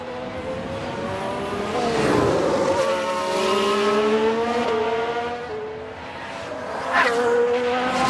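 An Aston Martin Formula 1 car spins out in the F1 Manager 2022 racing game, its engine whine sliding up and down in pitch as it loses grip, loud and continuous with no voices.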